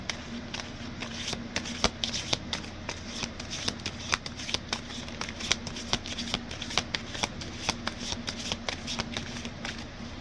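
A deck of tarot cards is shuffled steadily and close, producing a continuous riffling patter with crisp, regular flicks and no talk.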